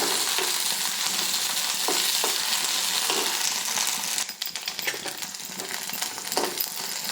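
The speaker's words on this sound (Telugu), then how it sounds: "చూడండి పచ్చిమిరపకాయలు అయితే మంచిగా వేగాలన్నమాట" Green chillies frying in about three teaspoons of oil in a pan for tomato chutney give a steady close sizzle, with light stirring clicks and scrapes running throughout and no voices.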